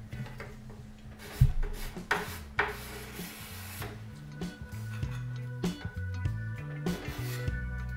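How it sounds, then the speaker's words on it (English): A hand card scraper works across a wooden dresser top during furniture restoration, giving a series of short rasping, scraping strokes with uneven rhythm, close to the microphone and moderately loud. "Some of these smaller places I ended up having to use a card scraper"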